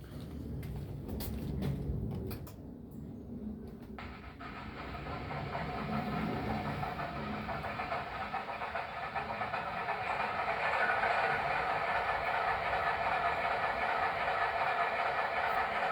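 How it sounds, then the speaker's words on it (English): An Alco diesel locomotive on a model railroad runs steadily with a continuous hiss and rumble, rising slightly in level over the second half and running on without pause. No one talks. "The sound of that Alco"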